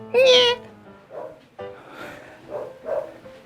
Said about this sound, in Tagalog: Aso na naman, mapa umaga, mapa gabi.